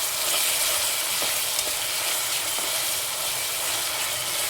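Curry leaves and ginger garlic paste hit hot oil in a pan while a chicken curry is being cooked. They give off a loud, dense, even sizzle and hiss that stays close and continuous the whole time.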